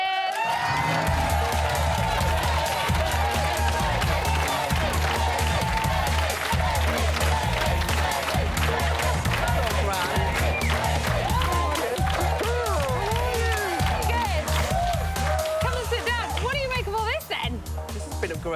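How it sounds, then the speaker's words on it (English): A studio audience claps, cheers and chants a name in rhythmic unison, loud and continuous throughout, with voices shouting over the crowd. "you've got a crowd chanting your name"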